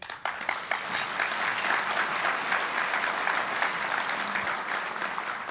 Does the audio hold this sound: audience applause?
yes